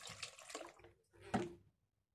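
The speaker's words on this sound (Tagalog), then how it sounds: "lalagyan natin siya ng tubig." Water is poured into a container holding spinach in two short splashing bursts, fairly quiet and close, then silence.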